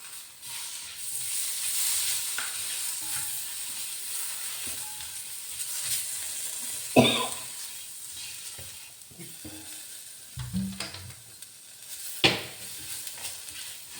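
Sautéed food fries in a pan with a steady close sizzle and hiss, broken by a few louder scraping stirs and clatters against the pan, no talking.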